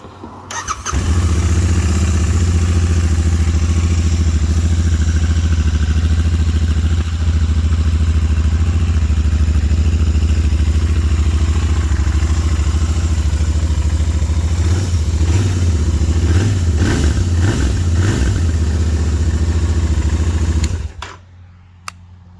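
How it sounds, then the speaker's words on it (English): A Royal Enfield Interceptor motorcycle with stock mufflers starts and idles with a deep, steady rumble, then revs a few times before the engine cuts off, loud and close throughout. "before I change the mufflers, I just want you to hear the stock sound."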